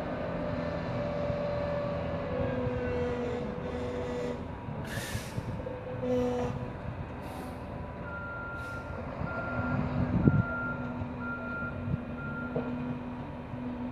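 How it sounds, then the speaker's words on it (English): Cement truck reversing on a construction site delivering a load, its backup alarm beeping in a steady repeating pattern over a rumbling diesel engine, with brief air hisses and a clank near the end. "So I'll let you see how the cement truck's setting up."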